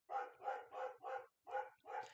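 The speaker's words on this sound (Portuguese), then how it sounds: "Ó, a cachorra latindo." A female dog barks with force, about six rapid harsh barks in a steady rhythm with one short pause, heard faintly at a distance and with no talk over it.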